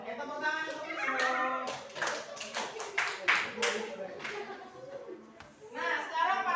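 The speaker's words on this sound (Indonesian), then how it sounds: "Oke, tepuk tangan untuk Wisnu." A classroom of students claps for a classmate named Wisnu, bursts of hand claps rising and falling under lively chatter and voices, close and fairly loud.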